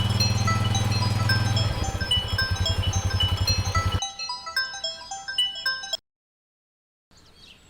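A phone rings as a call is placed, repeating electronic ringtone tones in a steady pattern that continue under a low background hum, then switch to a brighter melodic ring before cutting to silence.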